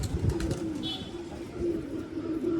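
Pigeons coo in soft low repeated calls close by, mixed with faint rustling and brief chirps.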